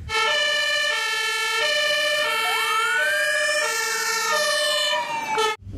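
A toy ambulance from a 911 City Patrol set plays an electronic siren that steps between tones and then sweeps, loud and steady for about six seconds, with no voices.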